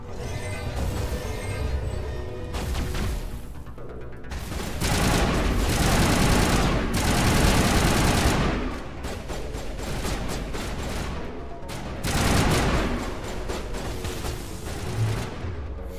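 Dense gunfire from the video game Mass Effect, with rapid, continuous bursts that swell louder and then ease back, over a noisy sci-fi battle.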